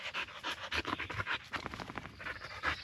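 Dog panting close by in a steady, rapid rhythm of breathy huffs that carries through the whole moment, with no talk over it.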